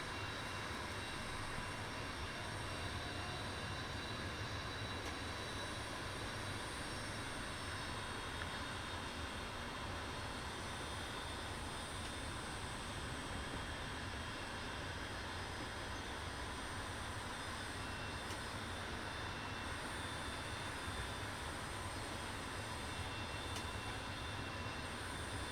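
A Leonardo M-346 jet trainer taxiing in Microsoft Flight Simulator, giving a steady, loud turbine whine and broadband engine roar that holds evenly throughout with no talking.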